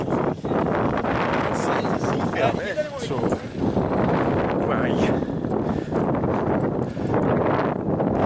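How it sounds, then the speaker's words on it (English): Strong wind buffets the microphone with low rumbling gusts on Millhall Road in Stirling, Scotland, while a person speaks briefly over the roar. "It's quite windy today, by the way."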